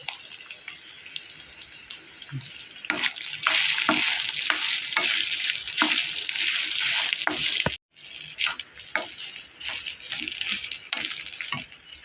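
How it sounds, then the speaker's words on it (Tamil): A spoon stirs and mixes cooked rice with curry leaves in a pan while making peanut rice. Close, repeated scraping and rustling strokes come in an uneven rhythm with a light sizzle, and a brief break near the end. "சாதத்தை கலந்துக்கிடுவோம்"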